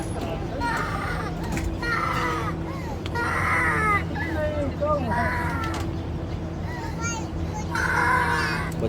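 A baby cries in repeated wailing bursts aboard a crowded Pakistan Railways Tezgam Express train near Sahiwal, with a steady low train rumble and hum beneath, scattered voices, and other sounds around it.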